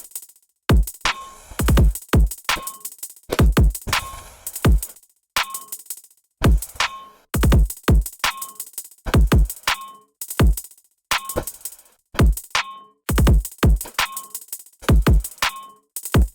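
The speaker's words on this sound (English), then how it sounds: "So the drums in the verse sound like this." A trap verse drum loop repeats with punchy kicks, sharp claps and an echoing trap hat, its crisp hits and trailing repeats cycling steadily and loud with no other sounds.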